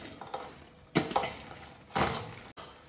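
Dried chillies being stirred into buttermilk in a bowl, giving a few soft clinks and scrapes of a utensil against the bowl, with two louder bursts of mixing near the middle and end.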